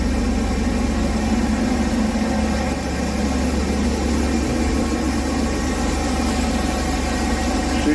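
A 2001 GMC Jimmy SLS engine idles steadily after repairs to the intake gaskets, distributor cap and rotor, with a smooth, even low rumble close to the microphone and no hiccups or roughness for the full duration.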